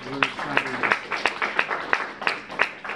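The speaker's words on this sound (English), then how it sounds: "Big round of applause." An audience at the Terminus Conference & Festival 2017 in Atlanta claps to welcome the conference panelists: a thin, steady run of sharp claps from a modest crowd, with a voice briefly heard at the start.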